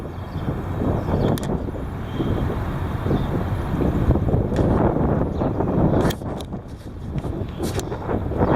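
Heavy wind roars in strong, uneven gusts, with blustery rumbling buffeting close to the microphone for the whole stretch.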